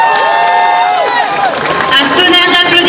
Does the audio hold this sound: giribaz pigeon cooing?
no